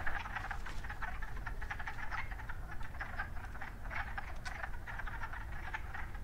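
Dense chorus of male wood frogs calling from a vernal pool, hundreds of overlapping clucking croaks forming a continuous, steady rasping din close by, with no voices.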